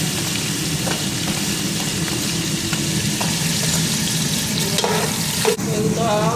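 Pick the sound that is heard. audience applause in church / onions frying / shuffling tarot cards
onions frying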